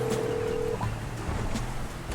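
A phone rings during GTA 5 gameplay as a steady electronic tone lasting under a second, followed by a short higher blip, with no talking over it.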